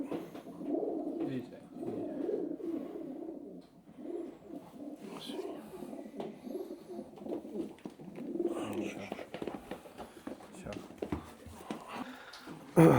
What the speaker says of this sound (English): This is another Corlatus pigeon